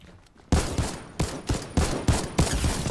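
An upgraded weapon firing in Fortnite: after a quiet half-second, loud close shots ring out in a steady rhythm, about six heavy blasts each trailing into a reverberant tail.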